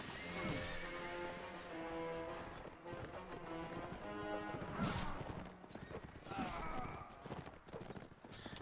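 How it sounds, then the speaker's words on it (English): Horses in the Mount and Blade video game whinny and neigh repeatedly amid clattering hooves and battle clamor, several loud calls overlapping in a busy, chaotic mix. "Gotta clear out all these goddamn horses."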